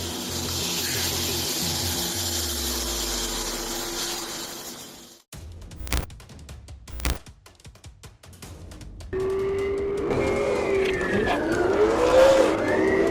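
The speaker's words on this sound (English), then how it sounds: "a black Chrysler 300 performing dangerous donuts at the intersection" A black Chrysler 300 doing donuts at an intersection, heard as a sustained engine roar and tyre noise that cuts out briefly, followed by sharp bursts and then a renewed loud skid with squealing tyres near the end.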